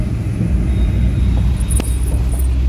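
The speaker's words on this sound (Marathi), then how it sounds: "गाडी हलती." Low, steady engine rumble inside an air-conditioned car as it drives, filling the whole stretch with a constant hum and a brief higher click near the middle.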